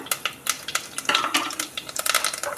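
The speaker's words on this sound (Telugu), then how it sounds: "పోపు గింజలు వేసుకున్నాం" Tempering seeds such as mustard, cumin and chana dal crackle and pop in hot oil, with irregular bursts of spattering and light stirring clatter, close and moderately loud.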